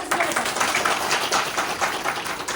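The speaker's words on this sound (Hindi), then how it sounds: "एक बार उन लोगों के लिए तालियां बजाओ" A gathering in Munsiyari, Uttarakhand claps for the team, a continuous patter of many hands that stays fairly even throughout, with faint voices mixed in.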